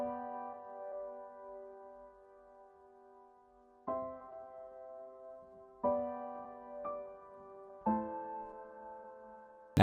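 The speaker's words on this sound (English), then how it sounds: "a piano melody that comes from the Bones pack" A sampled piano melody from a sample pack plays soft, sustained notes and chords, with new attacks roughly every two seconds decaying gently, quiet and alone with no talk.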